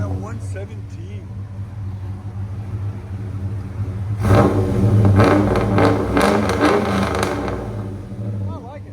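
A deep, loud cammed, catless 6.0L V8 GMC Sierra truck engine idles with a lumpy, choppy rumble, then revs hard several times, the roar rising and falling before settling back.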